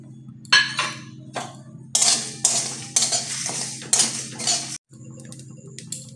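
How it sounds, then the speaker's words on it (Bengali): Whole spices including carom seeds are dry-roasted in a hot, dry wok, with repeated loud metallic scraping and clinking of a spatula stirring against the pan, close and rhythmic, with short pauses. "শুকনো কড়াতে নাড়াচাড়া করে হালকা করে ভাজতে হবে"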